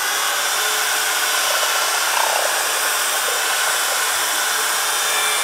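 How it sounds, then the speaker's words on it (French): Special pool paint for a painted concrete pool being mixed, most likely with a power mixer: a loud, steady whirring hiss that runs unbroken for several seconds and cuts off at the end, with no talk. "Et on va, comme tout à l'heure, bien mélanger la peinture."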